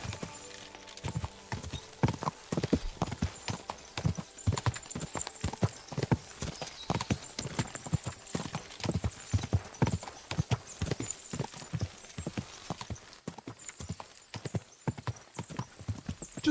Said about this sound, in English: All right, horsey.